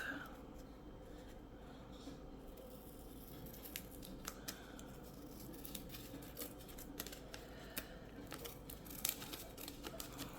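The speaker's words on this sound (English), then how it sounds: "I need to cut some of that off." Scissors snip through a paper pastry bag at a craft table, giving sparse, faint, close cuts and light crinkles over a steady low background hiss.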